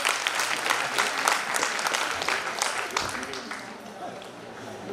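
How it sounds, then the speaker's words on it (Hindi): An audience at a founder's day function bursts into dense applause that holds strong for a few seconds, then thins toward the end. "जोरदार तालियां तो बजा दो"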